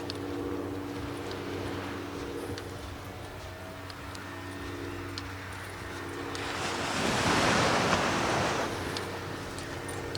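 Ocean surf rolls onto a video game beach with a steady wash and breeze, and one wave swells and crashes louder near the end before easing back to a low hiss.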